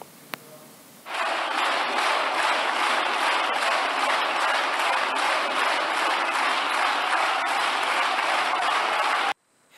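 Applause fills the Spanish Congress, a loud, dense and uniform burst of many hands that starts abruptly, holds at an even level for about eight seconds, then cuts off sharply.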